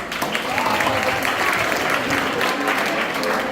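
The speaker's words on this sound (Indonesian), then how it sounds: "Boleh beri tepuk tangan?" Audience at a school musical theatre performance applauds steadily before the show begins, a dense, even wash of clapping that holds at a constant level throughout.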